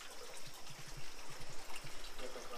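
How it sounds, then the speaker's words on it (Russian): Water from a holy spring at Preveli Monastery on Crete trickles and dribbles softly, with faint, irregular low gurgles close by and a quiet outdoor hush behind. "Сейчас будут пробовать воду из какого-то святого источника."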